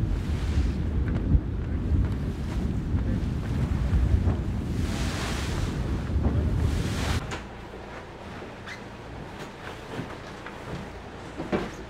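Strong wind and ocean waves buffet a racing sailboat during a Volvo Ocean Race leg, a loud roaring wash of surf and microphone wind that drops to a quieter hiss partway through, with no talking.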